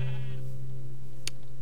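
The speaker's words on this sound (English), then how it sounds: "Sheep." A sheep in the video game Minecraft gives a short bleat at the start, over a steady low in-game hum, followed by a brief click, with no talking.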